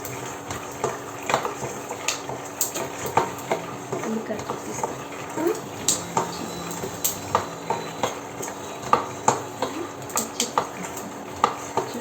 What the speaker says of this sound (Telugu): చూడండి, చాలా బాగా డీప్ ఫ్రై చేస్తాను